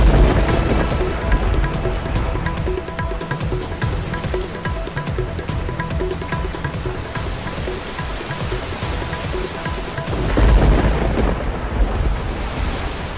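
Heavy monsoon rain in Valsad, Gujarat pours in a dense, loud roar with rolling thunder rumbling throughout and swelling near the end, with no voices.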